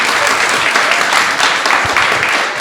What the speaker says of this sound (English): give her a little applause for that there